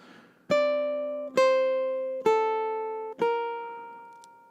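Four plucked notes on a ukulele from a classical-inspired lullaby, each ringing out clearly and decaying slowly, played at an even, unhurried pace with no voices.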